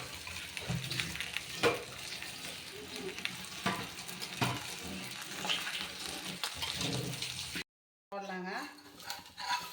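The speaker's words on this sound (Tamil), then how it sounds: "இப்போ அந்த சுற்றி எண்ணெய் ஊற்றிக்கலாம்" Pearl millet adai sizzles steadily in a pan as oil is poured around its edges, a dense, close frying hiss with stirring clatter, broken by a brief silent gap near the end before a voice is heard.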